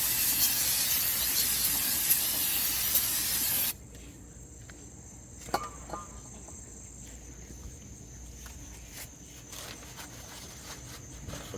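A greased front wheel bearing part from an Oldsmobile Cutlass is sprayed down with a steady, loud aerosol hiss, which cuts off abruptly after a few seconds. Faint clinks and handling noises follow in a quiet workshop.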